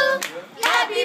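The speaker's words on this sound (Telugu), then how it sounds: "మళ్ళా క్లాప్స్ కొడదామా?" Two short bursts of hand clapping from a few people at a child's birthday party, close and brisk, separated by a brief pause.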